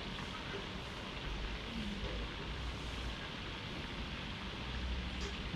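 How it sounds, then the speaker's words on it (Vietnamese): Pork and chicken frying gently in a pan over low heat, a steady soft sizzle and crackle that stays even and quiet throughout, with no voices. "Nhớ chú ý là thầy chiên lửa nhỏ nha,"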